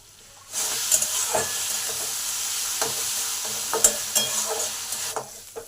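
Chopped onions sizzle steadily in a hot pan with a pinch of salt, a continuous bright frying hiss broken by a few soft stirring scrapes and clicks, close and fairly loud, with no talking.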